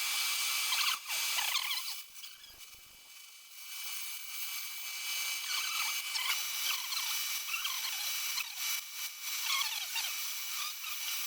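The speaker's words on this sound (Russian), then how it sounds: "Теперь сверлим 21 мм, выводим диаметр колодца до своего размера." A 21 mm drill bores into the cylinder head of an Infiniti FX50's 5-liter VK50VE engine, a loud, close, continuous grinding whir with a brief dip early on, and no voices.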